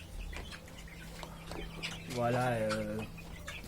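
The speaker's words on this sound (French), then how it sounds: "Un coq hollandais, blue hollandais, ça c'est un blue simple, blue splash." A blue Dutch (Hollandais) bantam rooster on an African farm gives one loud, close, drawn-out clucking call of about a second, amid softer background clucks and a brief spoken word.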